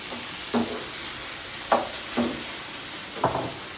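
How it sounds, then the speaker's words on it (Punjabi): Potatoes, tomatoes and green chillies drop into browned onions in a hot pan at a village kitchen, giving a steady sizzle with four short, loud stirring or tossing bursts spaced through it. "ਇਹਦੇ ਵਿੱਚ ਹੁਣ ਪਾਵਾਂਗੀ ਆਲੂ ਟਮਾਟਰ ਹਰੀਆਂ ਮਿਰਚਾਂ"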